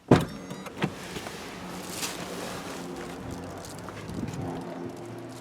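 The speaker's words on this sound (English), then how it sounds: "The seat and steering wheel move back when you open the door." Power seat and steering wheel of a 2016 Nissan Murano motoring back as the door opens, a steady electric whir after a brief click, close and even throughout with no talk.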